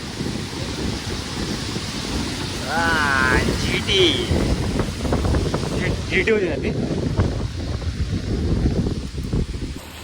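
Strong wind gusting at Dadar Chowpatty beach at night, a steady rushing roar and buffeting against the microphone throughout, with people talking over it.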